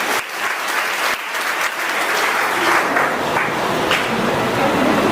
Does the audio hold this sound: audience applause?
yes